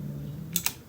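Keys on a computer keyboard tapped in a short burst of two quick, close clicks over a low hum.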